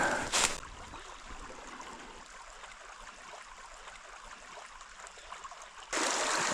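A hillside creek grown fairly large runs over bedrock, giving a steady broadband rush of flowing water at moderate distance, with a brief louder splash near the start and again near the end.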